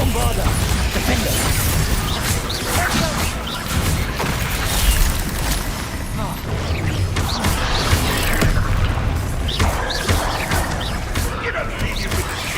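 Confringo and Bombarda spell blasts from Hogwarts Legacy burst repeatedly amid dense, loud clattering action, several sharp impacts scattered through a continuous busy mix, with voices heard over the effects.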